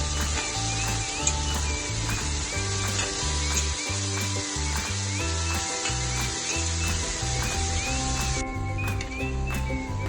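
Vegetables for sambar rice sizzle steadily in a hot pan, a constant loud frying hiss with faint scraping and stirring, close up and without talk.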